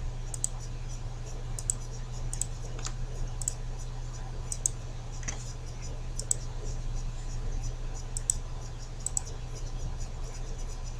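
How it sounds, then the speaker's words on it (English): Computer mouse clicks during an Illustrator lesson, a dozen or so sharp, light taps spread irregularly over a steady low hum, sometimes in quick pairs, close and moderately loud. "click your black bar, press shift, and click on every black bar that you have available"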